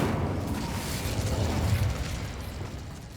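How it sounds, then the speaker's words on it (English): The Incendio fire spell cast in the video game Hogwarts Legacy: a rushing, roaring burst of flame with crackling texture, sustained for a few seconds at moderate level before gradually fading. "Incendio."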